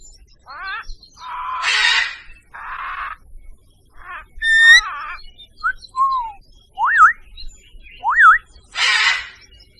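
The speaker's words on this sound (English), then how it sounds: "Parrot." A parrot gives a run of varied calls: harsh squawks, rising and falling whistles and chirps, each short and separated by brief gaps, close and clear against a quiet background.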